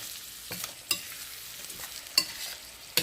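Curry leaves get mixed into yellow cucumber chutney in a pan, with a soft frying hiss and several distinct, spaced scrapes and clicks of the spoon against the pan.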